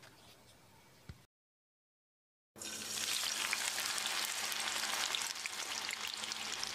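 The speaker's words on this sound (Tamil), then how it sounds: "எண்ணெய்க்கு தகுந்த மாதிரி பாதி பாதியாக போட்டு எடுத்துக்கலாம்." Boiled yam pieces drop into hot oil with a loud, steady deep-fry sizzle that fills the space without a break, coming right after a short silent gap and a faint quieter stretch.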